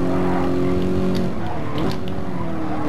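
A race car in a racing video game, set against Ferraris, roars loudly and close on a lap, its engine tone climbing and dropping with shifts and brief tyre squeal.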